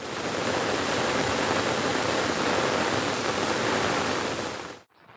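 Heavy monsoon rain in Saurashtra villages near Upleta, Rajkot, a dense, steady broadband downpour roaring evenly, loud and uninterrupted until it cuts off abruptly at the end.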